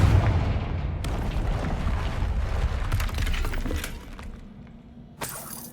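Confringo blasting spell exploding in Hogwarts Legacy against debris left by a troll: a loud, rumbling blast with crackling, shattering bursts that fades after about four seconds, followed by a sharp late crack.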